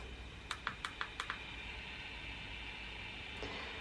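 A ghost-hunting spirit box sweeping on AM: a quick run of six sharp clicks, then a steady hiss of faint static with a thin tone held beneath.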